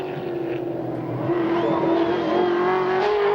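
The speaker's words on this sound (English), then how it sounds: "The green flag, the green car, and the man from Queensland, Dick Johnson, underway" A Ford Falcon touring car racing at the green flag start, a loud, sustained engine drone that climbs slightly in pitch as it accelerates, close by and steady, with no talking.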